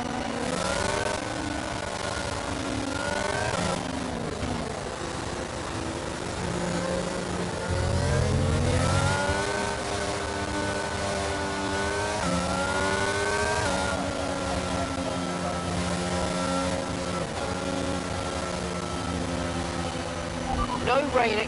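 A race car engine in a PS4 racing game revs and shifts through gears continuously, its pitch climbing and dropping over a long stretch, loud and steady with a voice talking over it.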